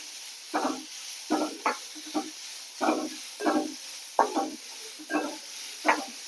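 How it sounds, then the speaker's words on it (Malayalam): Onions and carrots sautéing in oil while being stirred, giving a steady run of evenly spaced scraping, sizzling bursts roughly every half second, close and moderately loud. "ഉള്ളി ക്യാരറ്റും ഇതുകൂടി ഇട്ട് കൊടുക്കാം നന്നായിട്ട് നന്നായി ഒന്ന് വഴറ്റി കൊടുക്കണം"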